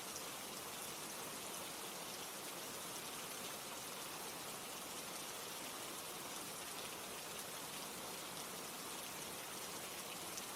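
Steady rain falls continuously, a dense, even hiss of countless drops spattering on surfaces, moderately soft and unchanging throughout, with no voices or other sounds.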